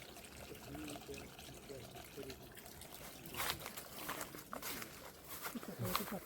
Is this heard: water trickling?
yes